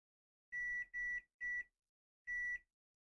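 A multimeter beeps four times in short, even tones while probing an iPhone 8 Plus logic board during a PMU replacement; the first three come in quick succession and the last follows after a pause, close and clear against silence.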